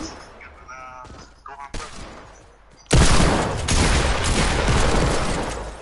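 Video game gunfire erupts as a loud, dense burst of shots that runs for several seconds, following a short stretch of quieter game sounds.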